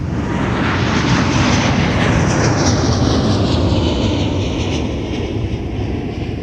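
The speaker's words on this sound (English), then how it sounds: "slight delay in position for a heavy Airbus departing the parallel" A heavy Airbus jet departs the runway at MSP airport with a loud, sustained engine roar, broadband and steady with a slowly shifting whine through the whole stretch, no voices.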